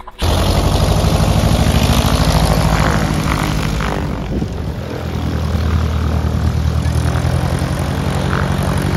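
A propeller airplane touching down near Narrandera: a loud, close, continuous engine and propeller drone that holds steady throughout, with a slight dip midway.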